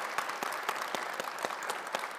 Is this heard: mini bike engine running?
no